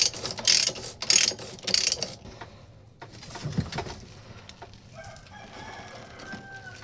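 Sprocket bolts on a Suzuki Smash 115 are tightened with a ratchet, making loud bursts of clicking early on, then quieter metallic handling and light knocks close by. No voices are heard.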